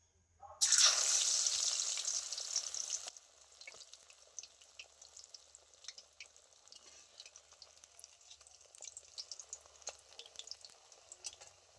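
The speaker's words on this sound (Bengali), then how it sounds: "এখানে আমি সরিষার তেল আগে থেকে খুব ভালো করে গরম করে রেখেছিলাম এবার তেলের মধ্যে ভেজে নেব" Pumpkin leaf and red lentil fritters drop into hot mustard oil with a loud burst of sizzling that settles into a steady, softer crackle and spatter of frying, close by with no talk.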